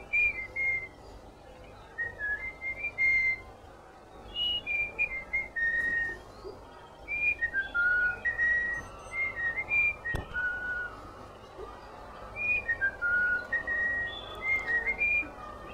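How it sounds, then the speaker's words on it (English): A bullfinch whistles a clear melodic folk song in repeated phrases, pausing briefly between them, alone against faint background noise. "This is the bird whistling."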